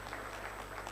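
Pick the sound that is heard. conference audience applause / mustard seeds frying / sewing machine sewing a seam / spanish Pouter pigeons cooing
conference audience applause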